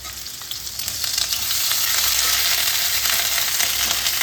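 Ginger paste frying in a pan of hot oil hisses with a dense, steady sizzle that grows slightly louder, joined by faint stirring noises and no talking.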